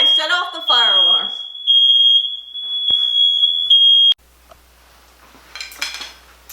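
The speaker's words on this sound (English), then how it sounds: "And I set off the fire alarm." A home smoke alarm, tripped while a cauliflower crust pizza cooks, holds a loud piercing steady tone for several seconds, cutting off abruptly, with a voice speaking at the start and faint kitchen clatter after.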